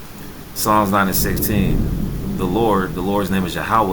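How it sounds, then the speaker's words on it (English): Heavy rain with thunder outside in Georgia forms a steady, muffled wash behind a man's continuous speech, the storm staying low in the background throughout. "So you can hear the rain in the background."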